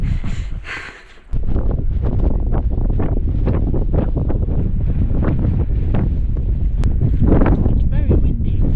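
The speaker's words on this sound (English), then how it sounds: "Very windy." Strong wind roaring across a mountainside near a wild camp, hammering the microphone in a loud, constant low buffeting after a brief lull at the start, with no voices over it.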